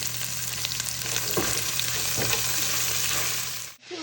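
Pepper, garlic and onions fry in a hot pan with a steady, close sizzle, a couple of soft stirring scrapes in the middle, before the sound cuts off near the end.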